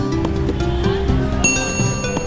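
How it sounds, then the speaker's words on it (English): A bell rings at an Indian street food stall as a handwash cue for vendors, its bright metallic tone sounding over steady busy background music and ambience. "The sound of the bell served as a cue for vendors to wash their hands."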